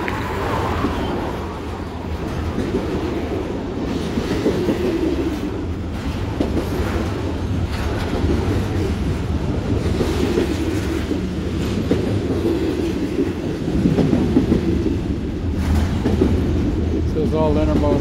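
CSX intermodal freight train rolling past at close range, a steady rumble with rhythmic wheel clatter and faint squeal throughout, with someone talking over the noise.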